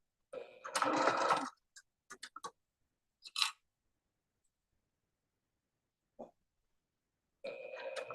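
A sewing machine stitching quilting fabric runs in short bursts: one longer whirring run near the start, a few brief stitch taps, then another run starting at the end, with quiet gaps between.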